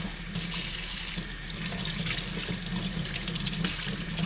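Warm water runs steadily from a tap into a sink to soak Arai motorcycle helmet parts during cleaning. The rush is close, continuous and fairly loud, with no talk over it.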